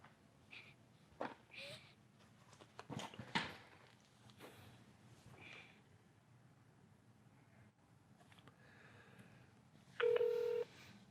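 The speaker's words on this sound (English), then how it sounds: "Now let me pick up the phone, I'm gonna walk around a few steps and try to dial again." Telephone dialing tones from a phone being picked up in a call-centre demonstration: a brief, loud burst of keypad tone near the end, following scattered handling clicks and faint background noise.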